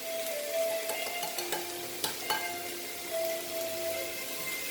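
Potatoes frying in a pan with dry masala, turmeric and cumin, a soft continuous sizzle with intermittent scraping and tapping from stirring, fairly quiet and close.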